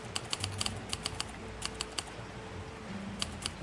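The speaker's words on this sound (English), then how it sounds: "I like how it has the typewriter sounds." Quick, sharp typewriter-like keystrokes from a detective video game clack in an uneven rhythm over a low steady hum, fairly quiet, with no voices.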